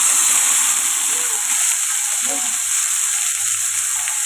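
A paste of onion, cashew and tomato fries loudly in a pan for paneer masala, a dense, even sizzle throughout with a few soft stirring sounds and faint talk underneath.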